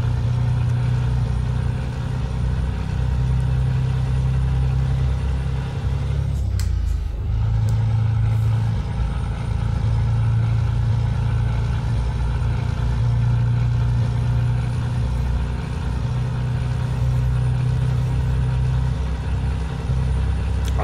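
A DAF XF 530 truck engine drones steadily on the Autobahn in Euro Truck Simulator 2, a loud, constant low hum with a brief dip in tone partway through, no talk.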